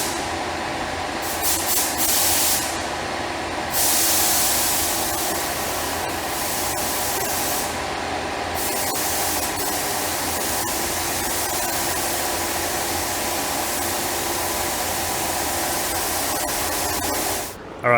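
A paint sprayer misting thinned spray putty gives a steady, loud hiss that runs continuously, with brief surges in the high hiss early on and a quieter tail at the end.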